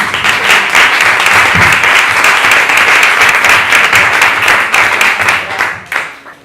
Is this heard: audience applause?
yes